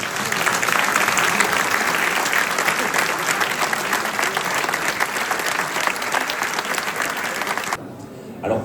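Evening conference audience applauding in tribute to Marcel Pagnol, continuous dense clapping that carries on steadily before cutting off abruptly near the end.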